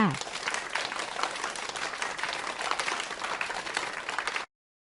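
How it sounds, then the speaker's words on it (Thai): Schoolchildren in a primary classroom clap together for a classmate, a lively burst of many small hands with sharp, uneven slaps that continues steadily for about four seconds and then cuts off abruptly. "นักเรียนปรบมือให้กับจินดาหน่อยค่ะ"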